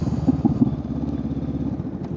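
A motorcycle is ridden with its engine throbbing in a steady, pulsing low rumble, loud and close throughout, with no voices.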